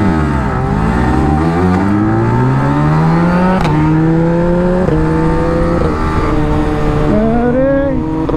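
A Yamaha R15 150cc and a Suzuki Hayabusa Gen3 race, their engines revving hard through repeated rising sweeps and gear shifts, loud and close throughout.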